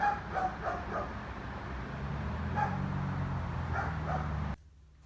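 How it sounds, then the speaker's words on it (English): A dog barks in short repeated yips at a distance, several quick barks over a steady low rumble of background noise. "The neighbor's dog's still barking."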